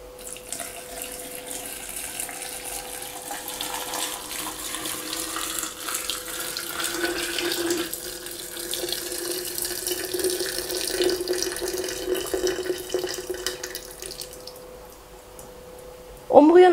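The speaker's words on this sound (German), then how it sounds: "Jetzt könnt ihr 1 Liter Wasser aufkochen, entweder im Wasserkocher oder in einem Topf und dieses dazugeben." Boiled water poured into a glass jar in a kitchen, a steady continuous stream that rises slightly as it fills, ending with a brief clink.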